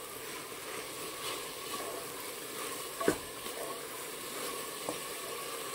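Masoor khichdi filling with turmeric and salt is stirred in a pan, a quiet steady sizzle with soft scraping strokes and one sharper clink of the spoon partway through.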